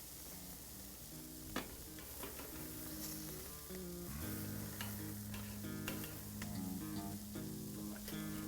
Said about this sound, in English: We are ready to sear. I'm going to go about a minute on each side.